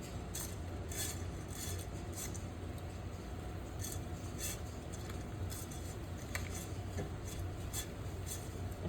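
Meatballs pushed down into a pot of savory creamy mushroom sauce with a utensil, a quiet series of soft clinks and taps of metal against the pot in an uneven rhythm over a low steady background hum, no talk.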